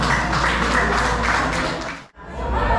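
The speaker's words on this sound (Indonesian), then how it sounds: "Tepuk tangan untuk kita semua." Applause at a school alumni reunion in Jakarta, a dense wash of clapping from a large gathering that cuts off briefly near the end, then resumes.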